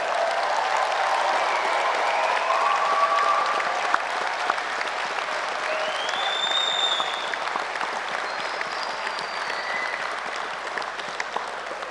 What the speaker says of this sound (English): let's honor them now with the loudest, most joyous applause you can give for walking every single step of the way with you